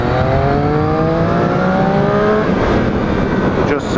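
A 2014 Triumph Street Triple ABS pulls hard on a neighborhood road, its engine note climbing steadily and loud close by amid rushing wind noise.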